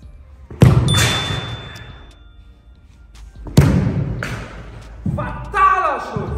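A football struck hard during a one-on-one football challenge: two loud, close thuds about three seconds apart, each followed by a fading rumble, with a voice heard near the end.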